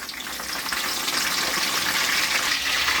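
Curry leaves crackle and sizzle in hot oil while making fish curry, a dense, steady frying hiss close by with no talking.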